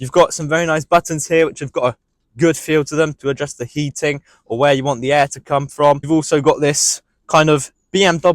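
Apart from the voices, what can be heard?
No everyday noise stands out behind the speech.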